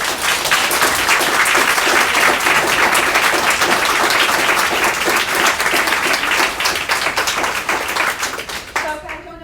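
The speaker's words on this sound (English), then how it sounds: "I would love if we could give a round of applause to all these" A room of attendees at a Women In Procurement event in Dallas claps for the panel, with dense, close applause running steadily for about nine seconds before tapering off at the end.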